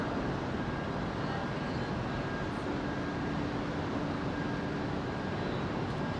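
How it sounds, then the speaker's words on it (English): A Boeing 767 airliner flying near Heathrow Airport, London, heard as a steady, continuous broadband roar with a faint tonal hum, holding at a constant level throughout with no talking. "That's a long old flight, isn't it? For a little 767."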